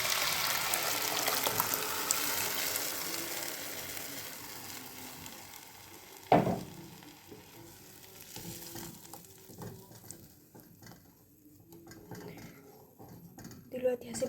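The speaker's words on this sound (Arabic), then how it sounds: "دلوقتي هنزل بعصير الطماطم" Tomato juice poured into a hot pot of fried moussaka vegetables, a steady broad sizzle and hiss that flares with a sharp burst midway, then calms to a softer simmer with light clinks of utensils.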